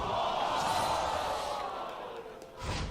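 Crowd at a League of Legends esports match, Team Liquid versus Counter Logic Gaming, giving a loud sustained roar of cheering that swells and then eases off.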